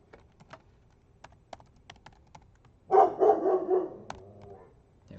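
A dog lets out a loud burst of several quick barks indoors, breaking up the steady soft clicking of computer keyboard typing that continues before and after.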